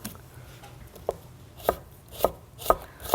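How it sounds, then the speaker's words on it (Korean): A knife slicing an onion into thin strips on a cutting board, with five distinct sharp chops at a slow, even pace, close up and alone over a faint room background. "그래서 반 잘라서 한번 채 썰어 주시겠어요?"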